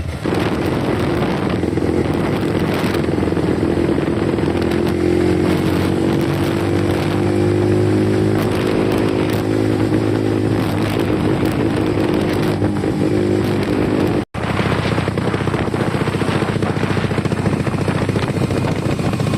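A remapped Yamaha R15 sport motorcycle engine revving nearby, loud and sustained with rising and falling throttle pitch, then cutting out for an instant before the engine noise resumes.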